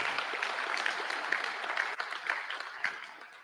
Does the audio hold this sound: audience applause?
yes